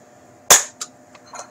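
A Nerf Zombiestrike crossbow fires a dart indoors in a hallway with one sharp, loud snap, then a few fainter clicks and a soft thud as the mechanism settles.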